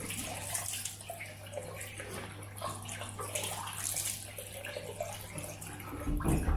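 A tap runs water for a hot rinse during a wet shave with a Wilkinson Sword Classic safety razor. It gives a steady, fairly quiet splashing stream with a low hum underneath and no talk.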